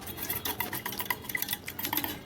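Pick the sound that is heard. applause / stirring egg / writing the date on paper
stirring egg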